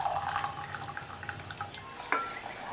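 A strained white liquid is poured into a pot of payasam with cooked moong dal and flattened rice, giving soft trickling and splashing close by, followed by a sharper clink near the end.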